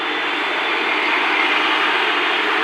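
A Delhi metro train at a station gives off a loud, steady rushing roar that holds constant from start to finish, with no speech.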